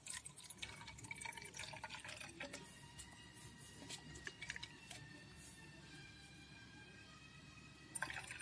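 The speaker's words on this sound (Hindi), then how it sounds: "इसमें हम पानी ऐड कर देंगे थोड़ा" Water being added to homemade hand wash, a steady pouring and filling sound with a faintly rising ringing tone as the container fills, close and continuous.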